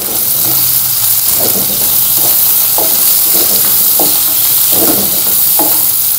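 Spices including turmeric, fennel, dry coriander and mustard seed being stirred in a frying pan for a tangy-sweet chili curry, with a steady close sizzle and repeated scraping strokes of the spoon throughout.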